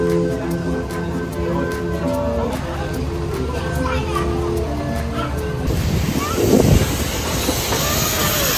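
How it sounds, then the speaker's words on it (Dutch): Train on the Miljoenenlijn heritage railway at a Christmas event, with a rumbling, clattering passage and tonal hum up close, a sharp hiss later, and people talking nearby. "Oh, wat een lange trein, Lily."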